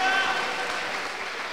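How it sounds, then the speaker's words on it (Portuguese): Congregation applause during a Portuguese-language church service, a dense wash of many hands clapping that stays steady and full throughout, with a faint held tone beneath at the start. "Você pode aplaudir ao Espírito Santo de Deus."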